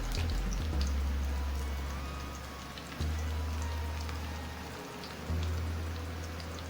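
Green plantains fry in a pot of hot coconut oil, giving a steady, dense crackle and hiss like rain, with low thumps from the pot and no talking.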